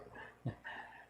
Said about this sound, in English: There goes his dog.